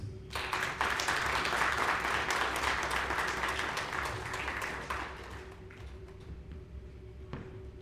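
An audience at a corporate event welcomes the CEO of VirtualPay Group with loud, sustained clapping that fades gradually over several seconds, leaving a quieter room with a few scattered claps.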